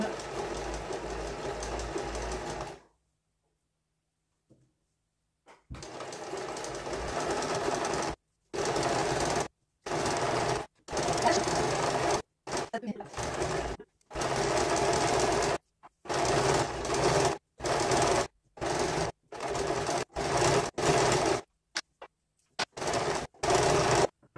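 A sewing machine topstitches a few millimetres from the outer edge of a McCall's M7313 dress, running loud and close in a long burst, then after a pause in many short stop-start runs divided by silent gaps.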